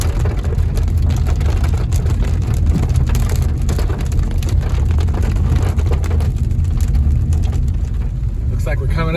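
Steady heavy rain drums on a car on a wildlife drive at Lake Apopka, a loud continuous patter over a low road rumble, with faint talk now and then.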